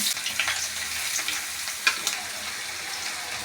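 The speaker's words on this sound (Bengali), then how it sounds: "পরিমাণ মতন সরষের তেল দিয়ে দিচ্ছি দুটো তেজপাতা ফোড়ন দিয়ে দিলাম পেঁয়াজ কুচিগুলো এবার দিয়ে দিচ্ছি ওর মধ্যে" Chopped onions fry in hot mustard oil with two bay leaves for a Bengali chicken kosha, a steady close crackling sizzle with a few sharp pops and stirring scrapes, no voices.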